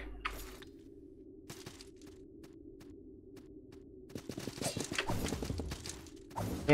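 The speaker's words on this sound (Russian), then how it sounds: "Ты что, сюда на своей лошади пришел?" Horse hooves clip-clop in the Salt and Sanctuary video game, a steady run of light, evenly spaced knocks over a low hum, growing into a denser, louder clatter toward the end.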